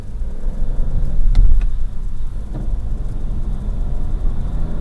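A Vauxhall Corsa's little 1 litre three-cylinder engine drones loudly from inside the car, a steady low rumble with a brief surge and a couple of knocks early on.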